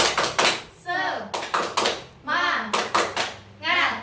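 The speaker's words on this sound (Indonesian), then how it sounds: "Kita kasih tepuk semangat dulu ke Bu Retno ya." A rhythmic 'tepuk semangat' clapping chant during an online Indonesian training session: short bursts of patterned claps alternate with chanted voices in a quick, repeating call-and-response pattern.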